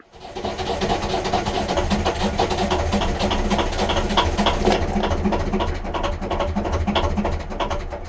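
A BMC 1.5 diesel engine cranking after its glow plugs are primed, a loud, close, rapidly pulsing starter churn with rhythmic knocking that runs steadily without catching; no talking.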